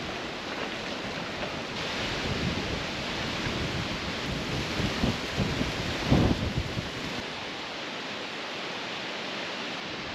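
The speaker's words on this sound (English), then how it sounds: "it's still very windy" Strong wind buffets the microphone on a lake shore, a continuous loud rushing roar with gusts swelling and easing, and a sharper blast near the middle.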